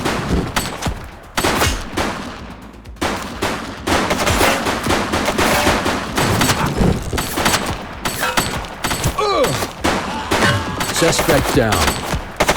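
Repeated volleys of gunfire in the police video game The Precinct, with bursts of shots spread across the scene, loud and near, with a short spoken line mixed in.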